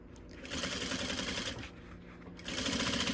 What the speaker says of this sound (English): So that's where we're going to sew right up along the edge.